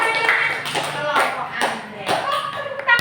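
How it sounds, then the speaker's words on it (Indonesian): A classroom applauds a student group with short bursts of scattered hand clapping. Voices talk between and over the claps, and there is one sharper knock at the very end. "Tepuk tangannya nggak meriah, kasih tepuk tangan yang meriah."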